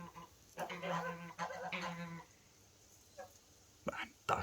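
Ducks give a few honking, quacking calls in short bursts, fairly close but quiet, with gaps of near silence between them.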